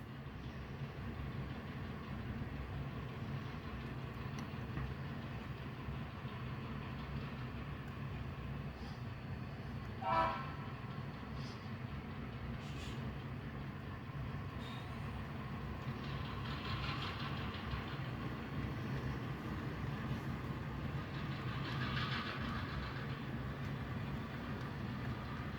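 A model train runs around a home layout while picking up and dropping off cars, giving a faint, steady low rumble and motor hum throughout, with one brief louder clink midway.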